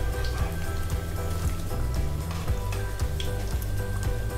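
Cassava vada frying in hot oil, a steady dense crackle and bubbling that holds at an even level throughout, with a faint low periodic hum beneath.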